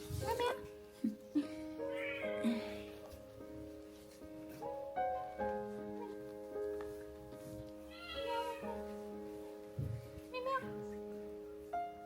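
A small abandoned kitten, found in a cold field, gives several high, wavering meows at irregular intervals, while a person speaks nearby.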